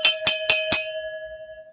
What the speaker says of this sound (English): And Gonzo, here is some cowbell for you. Actually, I'm going to try to make it as loud as possible